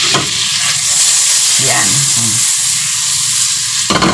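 Salmon frying in butter and a little cooking oil in a pan, a loud steady sizzle that runs all the way through with stirring scrapes, while someone briefly talks over it.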